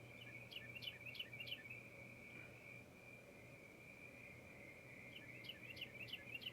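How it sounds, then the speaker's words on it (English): Played-back bird noise from a golf broadcast: bursts of quick repeated chirps sound at the start and near the end over a thin steady whine and faint insect-like background hum. "That bird noise you hear just at the very start there."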